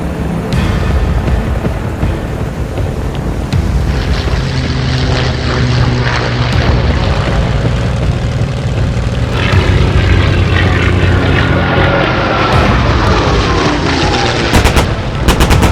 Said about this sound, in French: dès le 1er septembre, fait décoller ses chasseurs en piqué pour mitrailler des cibles stratégiques